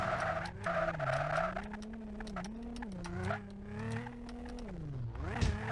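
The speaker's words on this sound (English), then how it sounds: "the car got sideways and I couldn't catch it to drive up the cliff" A car in the Tricky Machines video game slides sideways, engine droning and wavering in pitch while tires scrub and squeal, continuous and fairly close throughout.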